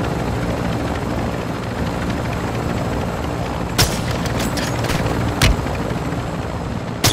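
A helicopter in Call of Duty: Modern Warfare II gives off a steady, close rotor drone, broken by a few sharp bursts of gunfire near the middle and the end.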